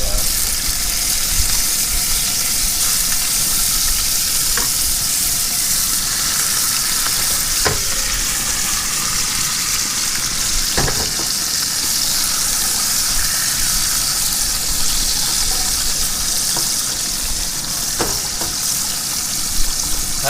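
Walleye fillets fry in a pan at an ice-fishing truck camp, giving a steady loud crackling sizzle with occasional sharp pops and spits throughout, no talking over it.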